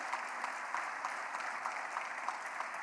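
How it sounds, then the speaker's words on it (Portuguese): Church congregation applauding during a sermon, a steady, fairly distant wash of clapping with faint regular accents, sustained evenly and quiet overall. "Aplauda Jesus"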